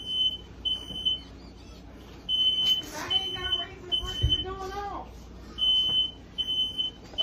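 A smoke detector chirps in repeated short high beeps, loud and close, while someone talks over part of it in a small indoor room.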